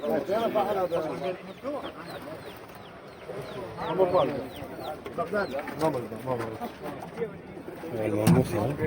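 Pigeons coo again and again at a busy pigeon and bird market in Mosul, their rolling calls close and overlapping, with other fowl clucking and people talking in the background.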